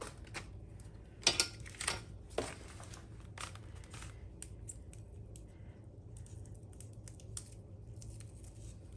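Scissors snip through Stampin' Up! foam strips close up, a few sharp crisp cuts near the start followed by quieter handling rustles.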